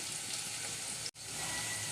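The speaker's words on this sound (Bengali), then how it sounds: "রসুন আর পেঁয়াজ ভাজা হয়ে এসেছে" Garlic and onion frying in a pan while making a kalmi greens stir-fry, a steady close crackling sizzle with a brief silent dropout partway through.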